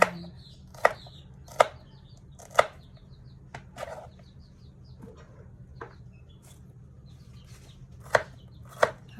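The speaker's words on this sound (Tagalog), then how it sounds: "Habang hinihiwa-hiwa ko mga palangga, ang ampalaya" A knife chops bitter gourd (ampalaya) on a cutting board in a home kitchen, giving crisp, irregular knocks spaced about a second apart under a low background hum, with faint chirps in between.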